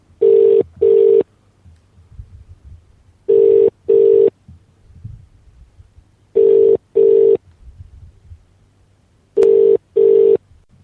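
A UK telephone line gives the ringback tone of an outgoing call, four loud double rings repeating evenly with quiet gaps between them.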